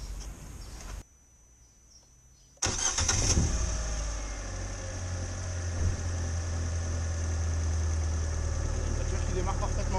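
A Fiat 500 starts after a battery replacement: a short cranking burst, a near-silent pause, then the engine catches with a loud rise and settles into a steady close idle.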